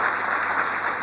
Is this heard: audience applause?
yes